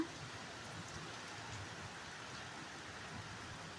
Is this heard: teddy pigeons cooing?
no